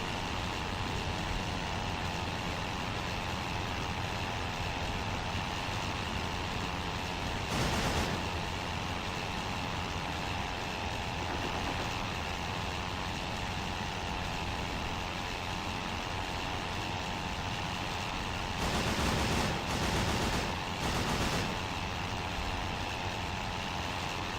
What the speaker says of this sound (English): Sounds like he's damaged my engine.